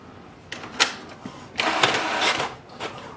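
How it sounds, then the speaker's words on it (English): An HP DeskJet 3762 inkjet printer printing its information page gives a nearby mechanical whir and clatter, with short bursts of motion and a longer steady stretch of paper feeding and carriage movement. "Press the information button once and wait for the printer to print the printer information page"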